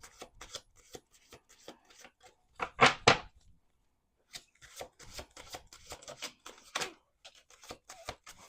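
Tarot cards shuffled by hand, a rapid series of soft papery riffles and rubbing swipes with a louder burst of riffling in the middle, close and quiet, with no talking.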